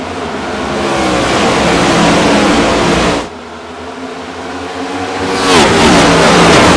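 Race cars in a sim racing game roar and accelerate at a green-flag restart, engine notes climbing loudly and continuously, with a brief dip midway before the revving surges again.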